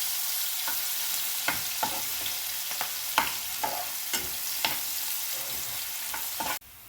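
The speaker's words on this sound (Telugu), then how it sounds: "మనం కట్ చేసి పెట్టుకున్న ఆనియన్స్, పచ్చిమిరపకాయలు వేసేసుకుంటున్నాము." Chopped onions and green chillies frying in oil for a dhaba-style egg masala curry, a steady close sizzle punctuated by repeated light scrapes and taps of a stirring spoon, then abruptly cut off.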